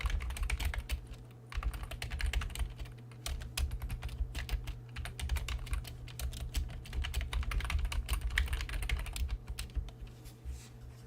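Rapid, irregular clatter of keys on a computer keyboard, typed in steady bursts close to the mic over a low constant hum, with no voices.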